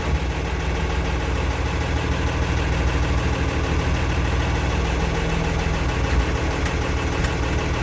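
A new tractor's engine idles at a steady, continuous rumble with a rough low-end knock, loud and close throughout with no talking over it.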